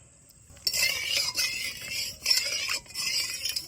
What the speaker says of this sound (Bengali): এবার ভালো করে মাখিয়ে নিব